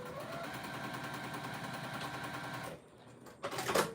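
Sewing machine stitching fabric strips together, a rapid, even mechanical whir running close for nearly three seconds before stopping, followed by brief handling noises.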